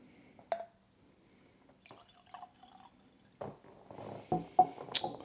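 Russell's Reserve 10-year whiskey poured into a glass indoors: a few quiet, separate clinks and drips, then a short trickle of liquid near the end, close and soft with no talk.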